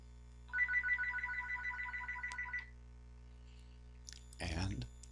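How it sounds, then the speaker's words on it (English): A telephone rings for a phone verification call, one rapid trilling electronic ring burst lasting about two seconds, clear and close, followed by a brief click and a short burst of voice. "And the phone rings."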